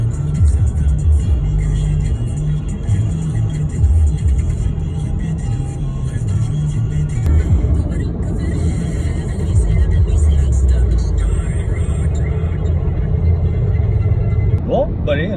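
An electric Opel Corsa cruises on a French motorway, its steady low road and tyre rumble filling the cabin while someone talks over it.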